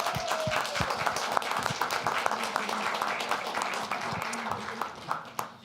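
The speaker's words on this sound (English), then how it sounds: "Let's applaud that." Meeting attendees at a Bolingbrook village board session clap for an undefeated ladies flag football team, with dense, lively applause and a few sharp, distinct claps standing out. It fades slightly toward the end.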